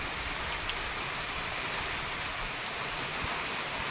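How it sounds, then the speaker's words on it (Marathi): Rain begins falling in February outside a farmhouse, giving a faint, steady hiss of drops that holds unchanged throughout with no voices. "बघा शकता पाऊस चालू झालेला आहे आमच्या इकडं"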